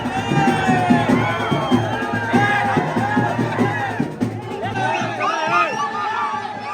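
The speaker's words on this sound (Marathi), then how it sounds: "आज जाम गर्दी आहे दर्शनाला." A large crowd of devotees packs the Ekvira temple, a loud, close babble of many overlapping voices and shouts, with individual people talking nearby throughout.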